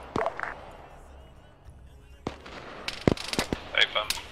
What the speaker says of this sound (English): There's more shots being heard.